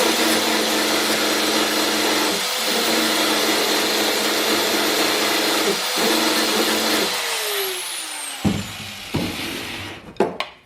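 A power tool sands and then cuts through the metal floorpan of a Mercedes W108/W109, a loud continuous whine and grind that drops in pitch as the tool spins down, ending in a few scraping knocks.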